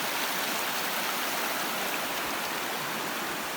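Forest stream rushing over many rocks near a camp, a steady dense broadband wash of water that stays loud and even throughout with no voices.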